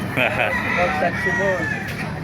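A rooster crows amid several chickens clucking nearby, with people talking in the background of a busy chicken market in Baliuag, Bulacan.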